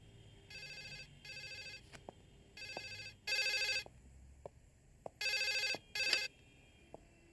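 A telephone rings in repeated electronic bursts, six rings with short gaps, loud and clear with faint clicks between, no talking.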